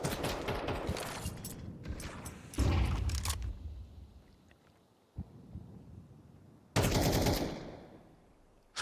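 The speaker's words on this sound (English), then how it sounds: "Now punctuated by the percussion of the rifles." Rifle gunfire in an esports shooter match at a pro league game: loud bursts of shots in the opening seconds, a sharp heavy volley near three seconds, a lone crack around five seconds and another loud burst near seven seconds, with quieter gaps between.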